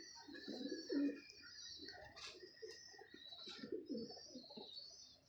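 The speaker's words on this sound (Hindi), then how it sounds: "मज़ेदार कबूतर है ये" Pigeons offered for sale coo softly in a few low, throaty bursts, with faint chirps and a constant high hiss in the background; no one speaks.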